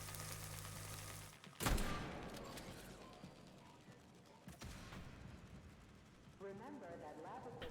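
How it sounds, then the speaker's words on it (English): Shotgun blasts in Atomic Heart land as a sharp loud burst near the start, with a second heavier shot midway, set among busy combat noise and mechanical clatter while a person talks over it. "the shotgun seems to be resoundingly effective some of the time"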